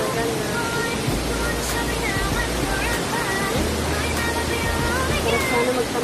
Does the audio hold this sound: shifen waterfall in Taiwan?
yes